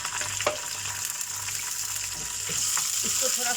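Ginger garlic paste fries in hot oil with crackled garam masala, giving a steady bright sizzle and hiss throughout with faint clinks and stirring in the pan.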